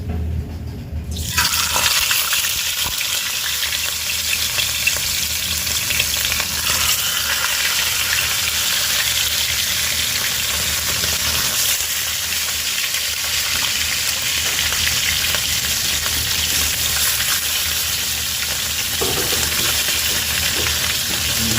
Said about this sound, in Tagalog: mainit na yung ating mantika, magprito naman tayo